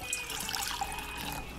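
Tap water pouring into a pot in a home kitchen, a short steady trickle and splash, fairly close and alone with no voices.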